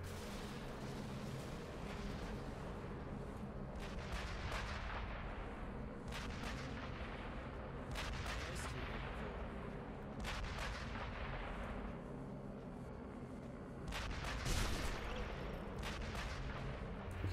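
Sniper rifle shots from the video game Sniper Elite V2 ring out as a series of sharp, separate bangs spaced a couple of seconds apart, faint and distant over a low background rumble.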